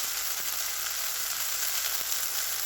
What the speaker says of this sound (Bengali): তেলের মধ্যে আমি লাউ পাতা বাটা দিয়ে দিয়েছি।